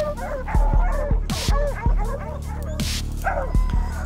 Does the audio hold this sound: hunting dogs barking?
yes